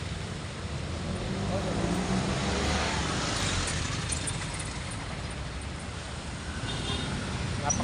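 Steady road traffic fills the scene along a congested street, a continuous broadband engine rumble with vehicles passing close by, loud and unbroken throughout.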